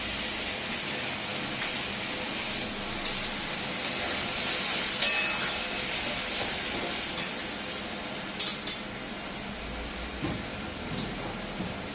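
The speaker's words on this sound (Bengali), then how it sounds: "গ্যাসের আঁচটা বাড়িয়ে দিলাম, বাটি ধোয়া জল দিয়ে দিলাম" Bowl-rinsing water poured into a hot kadai for egg 65 gravy on a raised gas flame, a broad steady sizzling hiss with a few sharp clinks and splashes near the end.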